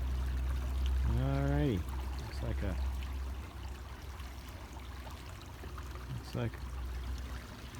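River water flows steadily in the background throughout, with someone speaking briefly over it near the start and again later.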